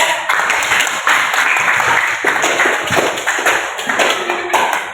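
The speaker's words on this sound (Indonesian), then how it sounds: "Marilah kita beri aplaus untuk teman kita yang telah mencoba." A classroom of students claps for a classmate during a lesson on the eclipse prayer, a loud, dense, sustained round of applause at close range with uneven bursts throughout.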